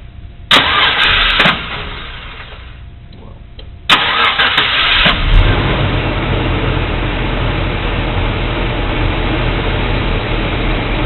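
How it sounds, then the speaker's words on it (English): A car engine cranks twice, then catches and starts, settling into a loud, steady idle that rumbles on close by. "So now I'm going to go in and start the car."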